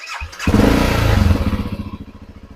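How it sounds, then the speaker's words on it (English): A 2007 BMW XChallenge motorcycle's 652cc Rotax single-cylinder engine fires up with a thump, revs briefly, then drops into a loping, pulsing idle, heard close and loud. "this is a 652cc Rotax engine"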